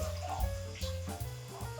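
Water poured into a pressure cooker lying on its side with meatballs inside, a steady gurgling fill at close range with some clanking of the pot, no talking over it.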